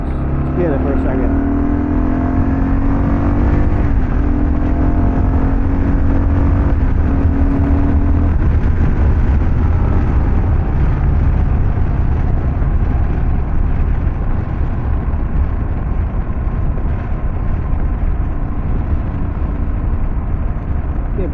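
A Kawasaki KLR650 carrying two riders cruises at about 30 mph on a road past cars, its engine a steady close drone mixed with wind rush, shifting pitch early on.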